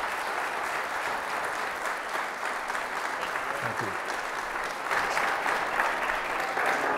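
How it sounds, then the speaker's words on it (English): An audience gives a sustained round of applause at an executive leadership talk, steady dense clapping from a large crowd, with a brief spoken thanks over it. "Can we give a round of applause to Sam?"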